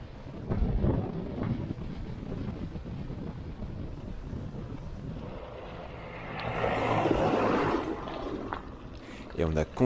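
Buffeting wind noise roars across the microphone while cycling fast downhill on asphalt during a gravel bikepacking traverse of the Jura, steady and rumbling with a louder gust surge near the end, with a voice talking over it.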